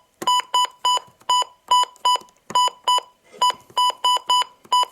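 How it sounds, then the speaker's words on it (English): A two-way radio's keypad gives sharp, bright electronic beeps as a code is entered, single and double tones in an irregular rhythm, loud and close with no talking. "I'm going to turn off the button beeps for now"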